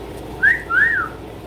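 A person at home gives two short whistles, the first a quick rising note and the second a longer rising and falling note, loud and close against a quiet room.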